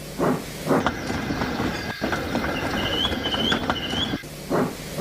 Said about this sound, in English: They brought the train back to the bottom of the hill.